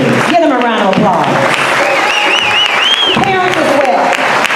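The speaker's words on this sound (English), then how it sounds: "Give them a round of applause." An audience applauds school alumni at a life celebration at the Marcus Garvey School in Los Angeles, a steady wash of clapping with crowd voices, cheers and a rising whistle-like cry heard through it.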